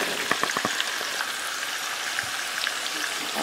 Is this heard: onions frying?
yes